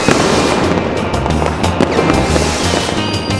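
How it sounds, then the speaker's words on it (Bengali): Firecrackers and rockets bursting during a Kali Puja celebration, a dense, loud, continuous barrage of crackling pops and bangs with rushing hiss and no clear gaps. "ওইটা কত বাজির আওয়াজ শুনছি। রকেটও উড়ছে।"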